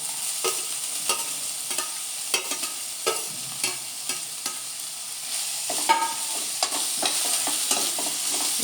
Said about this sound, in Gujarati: મિક્સ કરી અને આને થોડું થોડું જ આપણે ચડવા દેવું, વધારે નહીં।